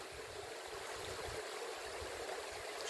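A river stream flowing nearby, a steady soft rushing and gurgling water wash that stays even and fairly quiet throughout, with no one talking.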